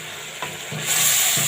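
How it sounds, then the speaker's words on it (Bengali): Hilsa fish and Malabar spinach stems stir-fry in a pan, a close hissing sizzle that swells louder partway through, punctuated by a few soft stirring scrapes, with no talking. "দিয়ে দিব পুঁই শাকের ডাঁটা। এবারে ভালো করে নেড়ে চেড়ে কষাই নিব।"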